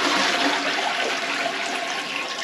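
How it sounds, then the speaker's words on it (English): A plugged toilet is flushed, and a steady, loud rush of water fills the short stretch with no voices. "let me flush this into something"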